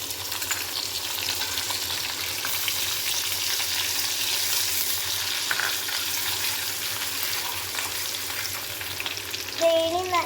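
Ginger and garlic sizzle steadily in hot oil for a fish biriyani, a dense continuous frying hiss with occasional stirring scrapes, close and even throughout; no one speaks.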